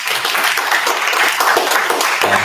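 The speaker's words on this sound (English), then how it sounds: "I think we should all give him a round of applause for the work he's putting on." An audience in an undergraduate student senate meeting claps loudly and steadily for a student senator, a dense, even burst of applause lasting a couple of seconds.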